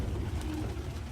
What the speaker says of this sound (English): They're just pigeons, Hank.